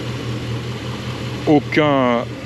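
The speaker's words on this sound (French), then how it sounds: "moteur tout doux, qui ne vibre pas, qui est vraiment bien réglé" The V8 engine of a 1996 Corvette C4 Collector Edition idles low and steady, humming smoothly in the background, then a person briefly speaks over it near the end.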